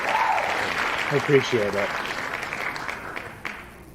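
Applause from a live audience for a guest at the close of a drone talk show, a steady broadband clatter that carries through the clip while someone speaks briefly over it.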